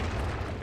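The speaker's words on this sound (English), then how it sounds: "Grenade." A grenade blast in the strategy game Company of Heroes 2: a brief, faint, low rumbling boom that fills the short moment.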